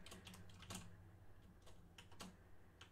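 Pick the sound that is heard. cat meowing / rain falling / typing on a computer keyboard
typing on a computer keyboard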